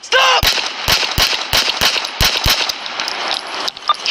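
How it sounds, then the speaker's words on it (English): A rapid volley of about eight or nine sharp gunshots fired by a deputy during a police confrontation outdoors, loud and close in quick, uneven succession. A voice cries out briefly at the start. "Shots fired, shots fired"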